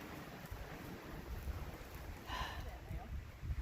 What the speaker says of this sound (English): so you can hear just how windy it is.